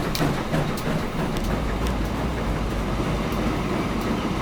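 A tiny train runs in the game Transport Fever 2 with a steady, continuous rolling rumble and faint rhythmic clicks, holding an even level throughout.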